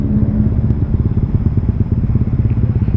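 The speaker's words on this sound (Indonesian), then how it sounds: "Nah nih langsamnya jadi tinggi nih kalau denger ya" A Honda Vario motorcycle idles high because of an IACV sensor error after sitting unused too long, a steady, fast, pulsing engine chug heard up close with no talk.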